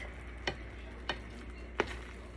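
Shrimp dip ingredients with lots of cheese being stirred in a bowl, three distinct scraping knocks spaced about half a second apart over a quiet steady background.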